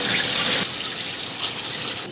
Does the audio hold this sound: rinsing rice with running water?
yes